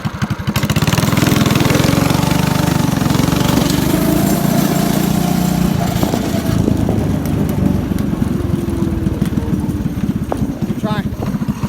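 A 6.5 HP go-kart engine runs steadily and loudly with a rough, mid-pitched drone that rises and falls a little, while a voice talks over it throughout.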